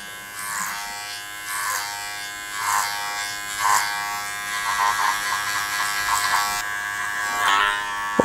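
Electric hair clippers buzz steadily as they cut a short, spiky men's haircut over a comb held flat. The motor drone is close and constant, swelling in rhythmic strokes as the clipper passes through the hair, with no talk.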